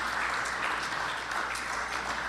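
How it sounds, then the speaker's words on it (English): An audience applauds all the teams and awardees at the closing and awards ceremony of a West Indies men's under-17 50-over cricket championship, a steady, even wash of clapping sustained throughout at a moderate distance. "Ladies and gentlemen, please, one lusty round of applause for all the teams,"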